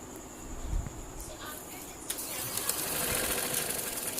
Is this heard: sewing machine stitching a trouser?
yes